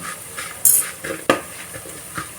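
A metal spoon stirs bitter gourd fry in a pan, giving a few clinks and scrapes against the metal, with one sharp knock and a soft sizzle underneath.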